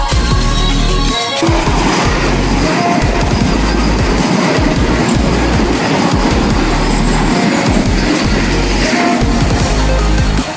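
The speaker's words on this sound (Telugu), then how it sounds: "ట్రైన్ వస్తుంది" A train passes close by, loud and continuous, with rhythmic clickety-clack of wheels on the rails and occasional squeals; no voices.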